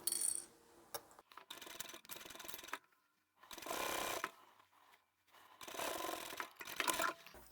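A sewing machine runs in several short bursts while stitching the side seam of a fabric book bag, each run a close, steady mechanical whir separated by brief pauses.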